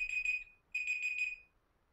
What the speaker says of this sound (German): Und das ist der Wecker.